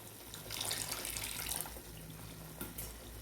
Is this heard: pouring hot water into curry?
yes